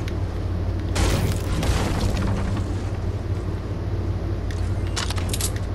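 An RPG rocket explodes in Fortnite Battle Royale with a loud booming blast, followed by rumbling and scattered crackling game sounds.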